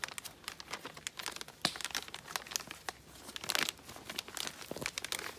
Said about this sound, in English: You'll loop the plastic bag over this hoop, I'll call it. Fold it over.